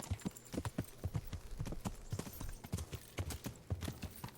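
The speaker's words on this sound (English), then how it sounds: "We'll just ride through this farm." Horse hooves clip-clop at a steady trot while riding through a farm in the video game Kingdom Come: Deliverance, rhythmic thuds close and clear for the whole stretch.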